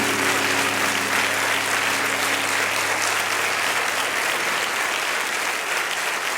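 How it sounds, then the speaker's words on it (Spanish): A church congregation applauds during a service, with dense, steady clapping that holds at an even level throughout and a faint murmur of voices underneath. "¿No le damos un aplauso al Señor?"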